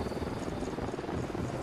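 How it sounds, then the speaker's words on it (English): A helicopter approaching in the video game Ghost Recon: a steady, dense rotor roar with a throbbing beat, loud and continuous throughout, no speech over it. "chopper incoming"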